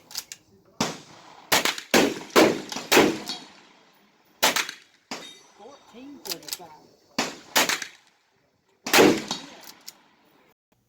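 Federal Automatch .22 LR rounds fire in sharp, loud single gunshots during an ammunition velocity test, spaced irregularly with brief gaps and a short spoken number between shots.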